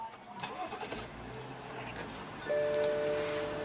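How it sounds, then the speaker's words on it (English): A 2015 BMW 535i's 3-liter inline six-cylinder turbo engine cranks and catches, then settles into a smooth, steady idle with a low hum and faint whine, heard up close. "what you're hearing is that 3-liter inline 6-cylinder turbo powertrain"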